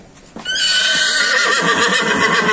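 At the Sokuluk livestock market, a horse lets out a loud, close, drawn-out whinny that trembles and wavers for about two seconds after a brief thud.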